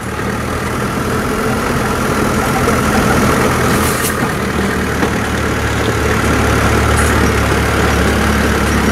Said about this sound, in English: I'm at the lowest point in second gear, holding it back on the brake most of the time.